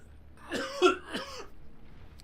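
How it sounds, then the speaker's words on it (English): Two or three short, rough coughs in quick succession, fairly close and moderately loud against a quiet background. "Stupid cough fest."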